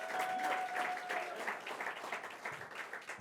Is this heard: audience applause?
yes